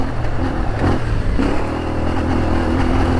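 A CFMOTO 450MT adventure motorcycle accelerates hard through second and third gear on a rough off-road trail. The engine drone is loud and continuous, with a brief dip and a pitch change at a shift, and rattling and wind noise underneath.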